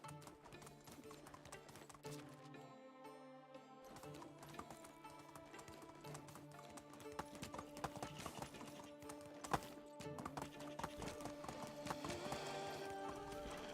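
Horse hooves clip-clop in Medieval Dynasty, a faint rhythmic trot mixed under layered game sounds, with a few sharper knocks along the way.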